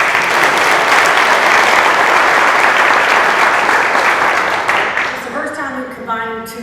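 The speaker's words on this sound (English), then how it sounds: "Let's give them a round of applause." A crowd at a downtown revitalization press conference with a state governor applauds in loud, continuous clapping that eases off near the end as a voice begins speaking over it.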